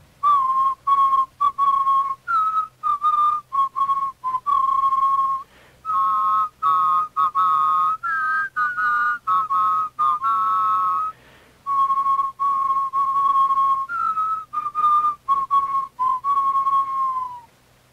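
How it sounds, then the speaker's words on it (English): Slow, mournful whistling of a funeral dirge, a single clear melodic line of sustained notes with brief breaks, close and fairly loud. "slowly processes down to Foss Pond, whistling a sorrowful funeral dirge."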